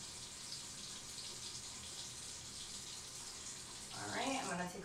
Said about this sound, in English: I'm going to take a little bit more water. I'm going to rinse the face.